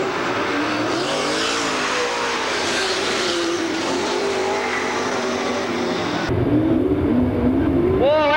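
Stock cars race around a track at the Veterans Day Classic in Porterville, California, engines roaring and revving loudly as they pass, with tire noise and a brief shift in the engine note near the end.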